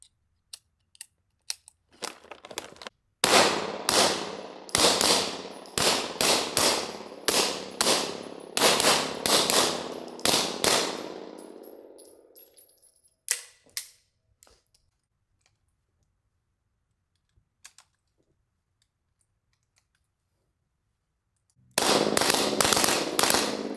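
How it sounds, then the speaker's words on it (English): A Beretta 92XI Squalo pistol fires at a shooting range, a rapid string of about a dozen loud, sharp shots with echoing tails, then a quiet pause before another burst begins. "let's take it to the range and go see how it shoots"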